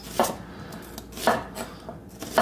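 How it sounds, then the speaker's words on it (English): A knife slicing through an onion onto a board, three crisp cuts spaced about a second apart, close and clear with no talking. "we cut the onion in half, and then with 2 fingers in the back and 1 in the front, so we don't cut ourselves, we just go back and forth"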